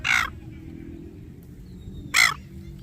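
Australian birds squawk angrily over food in the evening. Two loud, harsh caws ring out, one at the start and another about two seconds later, over a quiet low background.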